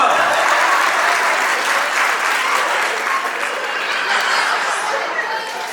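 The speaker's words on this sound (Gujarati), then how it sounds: "હવે મજા આવી તો તાળી કરો." Audience applause at a child's first birthday celebration, dense sustained clapping from a crowd, loud and close, with some chuckles and murmured chatter mixed in, slowly tapering toward the end.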